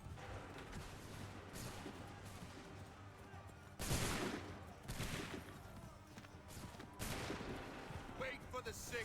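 A musket volley in Assassin's Creed III, several loud, crashing gunfire bursts landing at intervals, each one a sharp, broad blast, with shouted commands between them over a steady battlefield background.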